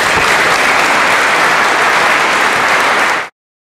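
Loud, dense applause from a large audience at the 2016 Father McGivney graduation ceremony, steady and sustained for over three seconds before cutting off abruptly.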